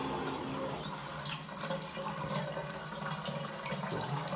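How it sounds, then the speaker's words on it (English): Hot water pouring steadily from a Kohler shower valve fitted with a new cartridge and mixing cap, a close, continuous hiss and splash of running water with no talk. "And that's hot water right there."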